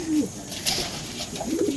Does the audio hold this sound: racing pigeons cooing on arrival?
yes